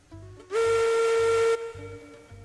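A steam locomotive whistle in the Railroads Online game sounds one loud, steady, sustained blast of about a second, rising sharply and cutting off abruptly over a low, rhythmic chugging engine hum.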